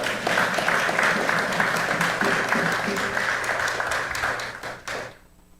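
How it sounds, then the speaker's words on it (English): An audience at an annual emancipation lecture on Anguilla applauds a guest lecturer, steady dense clapping across the room that thins and fades out near the end. "Please give him a round of applause"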